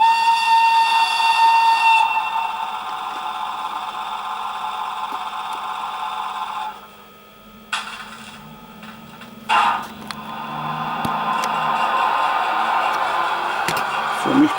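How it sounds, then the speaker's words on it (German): A model BR 150 (Class 150) electric locomotive's sound module sounds a short whistle during a sound test, with a steady loud tonal note at the start that cuts off, followed by hissing and mechanical sound effects. "kurze Pfeife."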